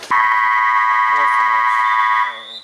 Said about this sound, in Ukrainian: сирена на перерву